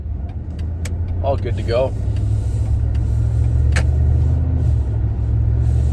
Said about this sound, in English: These spec engines, these Briggs, straight gas, change the oil every time.